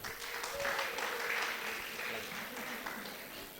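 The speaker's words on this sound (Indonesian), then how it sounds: "Berikan aplaus yang sangat meriah" An audience at an occupational safety seminar gives a brief burst of sustained clapping that is fairly faint and distant, with a little talk mixed in.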